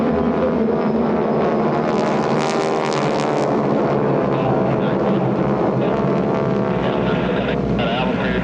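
A loud, continuous drone of a propeller warbird airplane at EAA AirVenture 2025, with a steady engine hum and faint voices mixed underneath.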